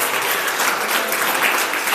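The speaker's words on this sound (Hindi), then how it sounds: "ये तालियां शिक्षक शिक्षिकाओं के लिए है।" Dense, steady applause from a school audience honouring teachers and women teachers at a cultural program, a continuous wash of many clapping hands without pause or voices.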